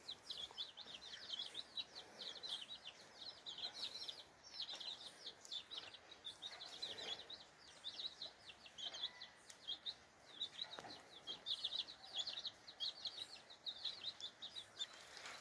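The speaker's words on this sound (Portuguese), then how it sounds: "Tem a galinha, os pintinhos, a galinha caipira." Chicks peep in rapid, high chirping bursts that continue throughout, with a free-range hen nearby, soft background noise of rain and no talking.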